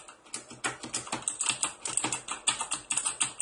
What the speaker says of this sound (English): this has a more clicky sound and Brown has a bit quieter sound.